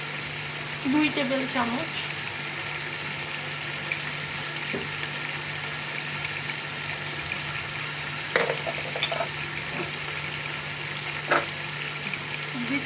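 Chili powder and ground spices fry in oil for bhuna khichuri, a constant low sizzling hiss with a few faint scrapes and clinks, while a voice talks quietly at times.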